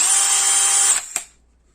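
A Craftsman CMCD720D2 brushless cordless drill running in reverse whirs steadily at high speed for about a second, then spins down with a brief clunk and fades to quiet.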